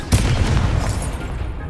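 A Confringo blasting spell explodes in the Hogwarts Legacy video game as a single deep, loud boom that opens with a sharp crack and rolls into a sustained rumbling tail.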